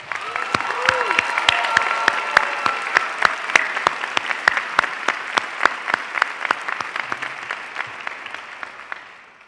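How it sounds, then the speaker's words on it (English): Audience at a pharmacy school graduation ceremony claps, with loud, sharp individual hand claps standing out over a crowd's steady applause that slowly thins toward the end, and a brief cheer near the start. "Let's give one more round of applause for the families, the partners, the friends, everyone who supported you on this journey"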